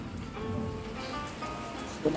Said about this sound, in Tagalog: Grabe ang ulan po dito sa Daet.